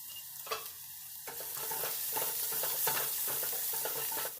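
Sliced onions sizzle steadily in hot oil in a pan while a spoon scrapes and stirs them in repeated strokes, close and clear, with no talking.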